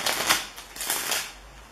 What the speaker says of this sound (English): Now, I shuffle the deck.